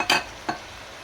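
Fried dal with tomato pieces is stirred in a pan, two quick scraping strokes close up over a faint sizzle.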